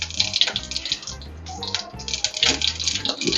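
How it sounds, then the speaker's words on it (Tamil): Mustard seeds dropped into hot oil in a kadai while cooking a brinjal masala curry: continuous crackling sizzle with sharp pops scattered through it, close and fairly loud. "இதே கடாயில் எண்ணெய் ஊற்றி கொஞ்சம் கடுகு போட்டுக்கலாம்."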